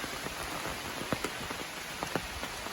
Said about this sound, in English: Well, it's raining, obviously,